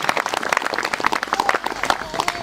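A congregation at a healing prayer service applauds for Jesus Christ, with dense, lively clapping from many hands that continues steadily throughout.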